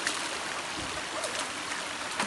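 A river in the Great Smoky Mountains, crossed on foot during a backpacking hike on the Big Creek and Gunter Fork loop, flows with a steady broadband wash and rush of moving water, constant and fairly close, with no voices.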